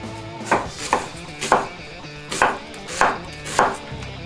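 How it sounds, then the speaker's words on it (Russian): A knife slices an onion into half rings on a cutting board, about seven crisp, evenly paced strikes close up, with no talking. "Лук режем полукольцами"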